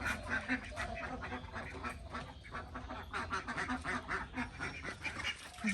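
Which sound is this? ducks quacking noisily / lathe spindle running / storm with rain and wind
ducks quacking noisily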